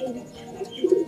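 Giribaj high-flying pigeon cooing in a loft, a brief soft coo close by with a slightly louder throaty burst at the end.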